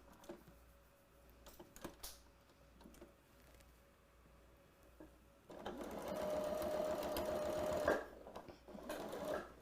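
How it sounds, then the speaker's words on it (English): A sewing machine stitches along the edge of a zipper in a home craft setting, starting with a few light clicks and handling noises before a steady, loud motor whir that runs for several seconds, pauses, then resumes briefly. "I'm just going to bring this to the machine and sew it right on the edge."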